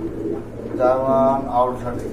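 A pair of German Owl Shortface pigeons coos in a few soft, close, rounded phrases, with someone talking alongside them.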